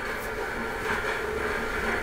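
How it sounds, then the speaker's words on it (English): A train pulls into a station with a steady, even rumble and hiss of rail noise that holds throughout, moderately distant and without a clear change in loudness. "the train's just pulling in the station."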